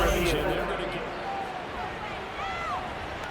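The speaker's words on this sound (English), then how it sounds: "Plenty of shouts from this crowd as they watch the replay" Stadium crowd in Madden NFL 24 shouting and murmuring as a replay plays, a dense steady roar of many voices with rising cheers near the end, spread across the whole stretch.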